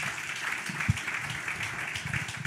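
A large audience at a community event applauds, with dense sustained clapping and a rumble of crowd noise heard from within the room, steady throughout.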